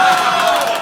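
Comedy club audience at The Comedy Store clapping and cheering loudly in a brief, dense burst of crowd noise.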